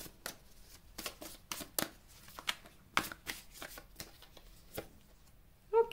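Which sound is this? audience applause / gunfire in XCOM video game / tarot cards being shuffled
tarot cards being shuffled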